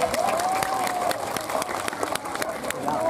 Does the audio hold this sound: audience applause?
yes